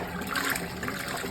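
A Fisher & Paykel GW712 washing machine agitates a load of dark clothes, churning and sloshing water in a continuous, moderately loud swirl with no speech.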